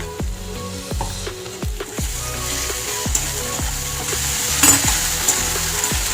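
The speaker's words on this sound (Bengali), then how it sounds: "রসুন দিয়ে কষে নিয়েছি এবার দিয়ে দেবো একটু আদা বাটা" Garlic and ginger paste frying in a pan gives a continuous loud sizzle, broken by regular spatula scrapes and taps against the metal, close up with no talking.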